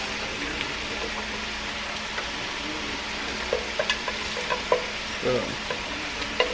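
Flour-coated rabbit pieces fry in a pan for fried rabbit and gravy, giving a steady broadband sizzle with soft crackles and a few scraping stirs near the end, close and moderately loud with almost no talk.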